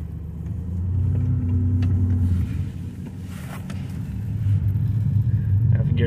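A heavy truck stuck in snow in cold weather, its engine rumbling loud and steady with a low revving surge as the driver pushes for traction, the drone dipping briefly midway before building again.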